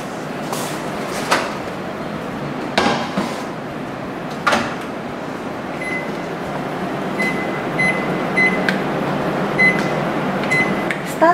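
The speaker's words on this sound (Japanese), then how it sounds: "オーブンにスキレットを入れ200度に予熱します" An oven preheats to 200 degrees with a cast-iron skillet inside, giving a steady fan hum broken by a few soft clunks early on and then a series of short electronic beeps.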